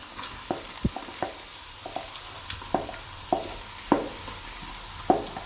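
Chopped onions go into hot oil with ginger and garlic for a soybean roast, a faint frying hiss broken by repeated sharp clicks and taps of a spoon against the pan, with no voices.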